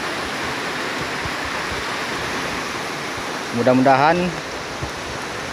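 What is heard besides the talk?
heavy rain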